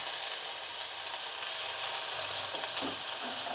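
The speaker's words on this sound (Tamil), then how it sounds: "இப்போ நான் இதில் வந்து இஞ்சி பூண்டு பேஸ்ட் சேர்த்துக்கிறேன்" Ginger garlic paste sautéing with onions in a pan for mutton varuval, a steady close sizzle and hiss throughout with faint stirring scrapes near the end, no talking.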